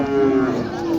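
A Sahiwal cow moos in one long, loud, low call that holds steady for about a second, close by, at a cattle market.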